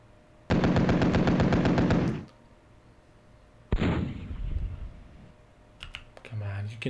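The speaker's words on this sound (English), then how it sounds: "shoot the mech infantry" Rapid gunfire in the WinSPMBT wargame as units shoot at mechanized infantry: a sustained machine-gun burst of about two seconds, then a sharp shot with a decaying echo, followed by a few quieter clicks.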